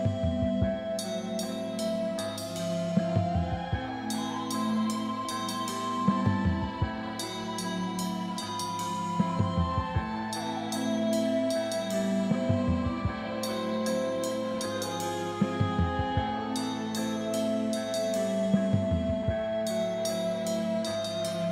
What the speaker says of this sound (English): then it turns into this free-form improv jam that they used to call a space jam